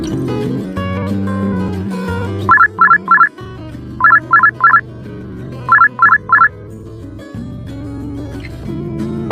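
A ringtone on a phone rings out in three repeated bursts of short bright chirps, each group of three pulses loud and clear, heard over background music while someone is driving.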